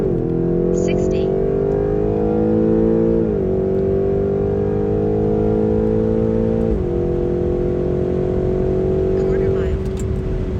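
A BMW X5M pulls hard through a drag run, its engine note climbing through several gears with clear drops at each shift. The roar stays loud, close and continuous for about ten seconds.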